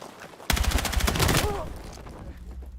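Battlefield 6 gun with heavy recoil firing a fast, loud automatic burst of about a second and a half, the shots closely spaced and punchy, trailing into quieter battlefield ambience.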